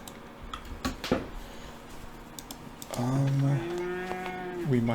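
Cattle in the farming game Farthest Frontier, two drawn-out moos near the end after a few light clicks, clear and fairly close.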